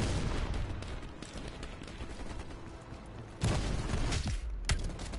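Shotgun blasts and other gunfire in the video game Black Ops Cold War, a dense stretch of game combat with two sharper, louder bursts near the end, no talking.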